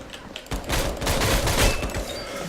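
Rapid, loud bursts of AK SOPMOD rifle fire with heavy recoil in the Metro Conflict shooter, sustained automatic shots close up after a brief quieter opening.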